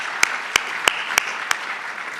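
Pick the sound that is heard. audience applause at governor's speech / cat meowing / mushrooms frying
audience applause at governor's speech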